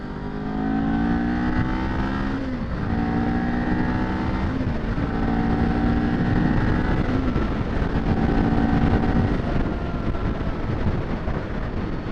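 A Kawasaki Ninja 400 sport motorcycle engine revs up through several gear changes, pitch climbing then dropping between shifts, loud and close with a steady road roar beneath.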